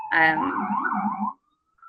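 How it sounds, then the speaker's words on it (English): A New York City ambulance siren wails in a brief rising and falling tone for about a second, then drops away abruptly. "Sorry, the New York City ambulances."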